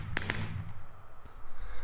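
Minecraft firework rocket from the 1.4.6 update, two sharp pops close together at the start followed by a crackling, fizzing tail and softer distant thumps, no voices.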